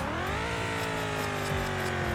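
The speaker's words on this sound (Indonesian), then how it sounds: "walaupun tidak seenak mobil limited ya suara turbonya, tapi boleh lah" Modified BMW with a turbo engine revving, a sustained throaty drone with rising and falling pitch and faint turbo whistle on top, heard close and steady with no talking.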